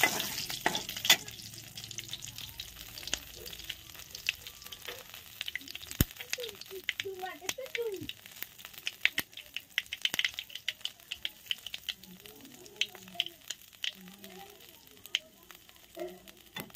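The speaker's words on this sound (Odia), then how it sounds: "ଏବେ ଫୁଟଣ ମୋର ଫୁଟିଲାଣି" Spices tempering in hot oil for a saag dish, spluttering with a steady crackling sizzle and many sharp pops and rattles, close by and without speech.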